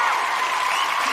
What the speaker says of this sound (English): I'm so excited that you're here that I'm gonna do some applause.